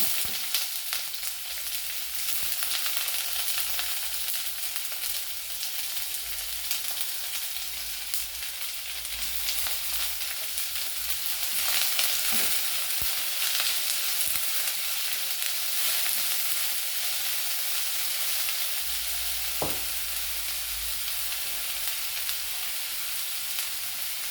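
Curry leaves and sliced onion frying in oil give a steady, close, hissing sizzle that runs throughout with occasional soft stirring knocks and no speech.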